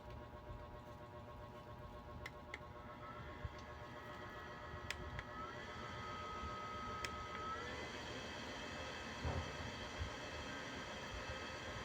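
A foldable electric fan runs quietly nearby with a low, steady whir and faint mechanical hum, broken by a few light clicks and ticks.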